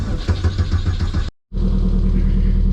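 A boat engine with a low battery cranks and sputters, cuts out for a moment, then catches and settles into a steady, loud idling rumble.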